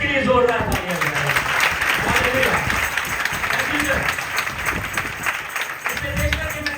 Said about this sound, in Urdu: اپنے خادم کے لیے, اپنی کلیسیا کے لیے اور اپنے چرچ کے لیے زوردار تالیاں بجائیں